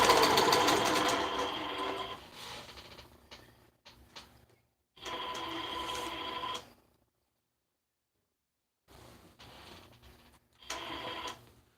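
A longarm quilting machine stitches a quilt at a quilting and sewing expo in Atlanta, running in several bursts of whirring and ticking with silent gaps between them and no talk.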